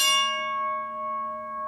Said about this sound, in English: Okay, so here we go with the mechanical bell.